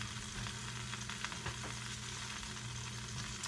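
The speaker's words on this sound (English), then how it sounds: "All right, let's put us some flour in here for our gravy." Flour sizzles and frying in a hot pan as it is stirred for a Southern brown gravy, a steady close crackle with soft scraping strokes and no talking.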